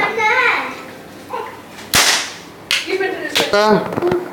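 A toy gun firing with sharp cracking snaps, a couple of loud pops spaced across the stretch, while excited children's voices chatter and call out around it.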